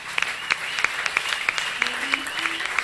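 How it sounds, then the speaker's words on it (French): A congregation at a church worship service claps in a brisk, steady rhythm, with sharp, evenly spaced claps over a low background hum. "Est-ce qu'on peut acclamer pour la gloire de Dieu?"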